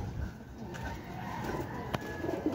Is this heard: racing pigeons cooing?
yes